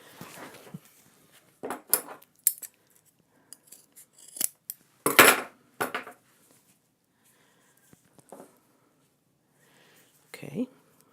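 Scissors snip decorative cord in a series of short, crisp cuts spaced irregularly, close and clear against near silence, with a person speaking between some of the snips.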